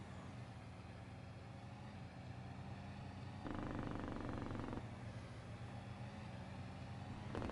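A truck engine in Farming Simulator 22 idles with a low steady rumble while being parked, its tone rising briefly as it revs for a few seconds before settling again.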